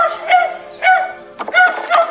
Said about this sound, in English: What's that? Bark, bark.